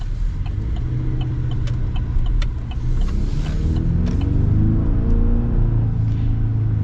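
A 2025 GMC Sierra 1500 Pro pickup's engine rumbles and builds as the truck accelerates, heard from inside the cab as a steady loud drone with rising pitch toward the end.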